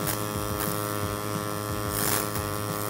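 Uphill pulse MIG welding runs as a steady, close electrical buzz with a pulsing hum, swelling slightly in places without any pause.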